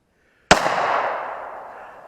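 A mud-covered FN FNS 9 pistol fires a single loud, close shot that cracks sharply and then rings out in a long, fading echo.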